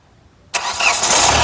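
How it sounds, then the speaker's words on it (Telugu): After a brief quiet moment, a 2016 Hyundai i20 engine cranks and catches on a single self-start, then settles into a steady, fairly loud running hum. "ఒకసారి ఇంజన్ సింగిల్ సెల్ఫ్లో స్టార్ట్ అవుతుందా లేదా అన్న చూపిస్తాను స్టార్ట్ చేయి"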